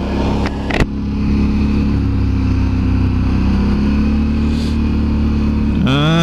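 Can-Am Renegade 1000 quad bike in Belgium idling steadily and loud up close, a low rumbling engine that holds an even pitch, with a couple of sharp clicks near the start and a quick rev rising at the end.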